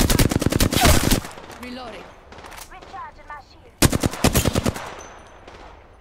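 Bursts of rapid automatic gunfire in a shooter video game, a loud volley at the start and another after a lull, with someone speaking briefly in between and game effects underneath.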